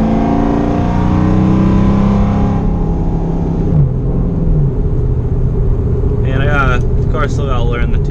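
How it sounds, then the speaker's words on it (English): A 1999–2004 Ford Mustang GT V8 idles steadily and close by after a 24lb fuel injector install, running on a fresh tune with a continuous low rumble. Faint background sounds rise briefly near the end. "But now it's probably idling the best it's ever idled."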